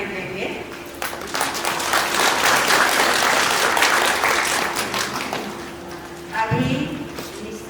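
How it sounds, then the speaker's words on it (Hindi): A wedding crowd applauds steadily, a dense wash of clapping that swells and holds for several seconds before tapering off, with a brief voice near the end. "प्रेम के रूप में तालियां देंगे।"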